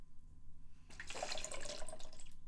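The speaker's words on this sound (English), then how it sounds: "So just follow my lead and drink some water." Water runs and splashes, likely poured or sipped, starting abruptly about a second in after near silence and continuing steadily to the end at close range.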